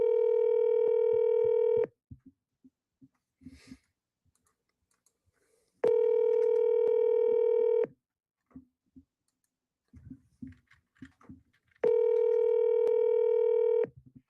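Telephone call tones over a phone line: three long, loud ringback-style tones at regular intervals, with faint clicks and tapping in the quiet gaps between them.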